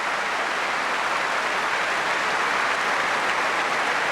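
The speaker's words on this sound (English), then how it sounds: "the crowd's going to applaud it now" Wimbledon crowd applauding a long rally in a 2001 Agassi–Rafter match, a dense, steady wash of clapping from a large stadium audience that holds unbroken for several seconds.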